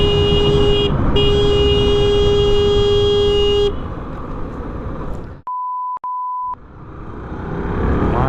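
Cars stuck in a long traffic jam on a service road honk: one horn blares steadily for a few seconds over road noise, then two short beeps follow after a pause.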